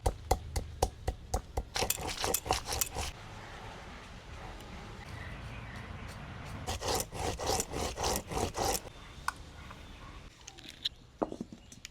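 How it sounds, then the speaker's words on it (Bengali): Ginger, green chillies and dried chillies ground on a grinding stone give a close, rhythmic scraping and rubbing in quick back-and-forth strokes, coming in bursts with short pauses between them. "আদা, কাঁচা লঙ্কা আর শুকনো লঙ্কা বেটে নেব।"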